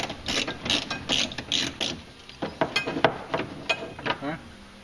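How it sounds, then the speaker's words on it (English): A ratchet with a T30 bit backing out a body screw on a Polaris RZR, giving rapid clicking pawl bursts in quick repeated strokes, close and crisp, while someone talks. "First, you're going to want to remove the one body screw with the"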